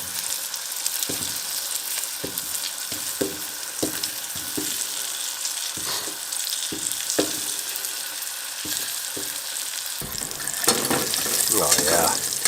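Butter sizzles and fries in a pan on a hot stove inside a bear tent in extreme cold, a steady crackle with scraping stir clicks, turning louder and busier near the end.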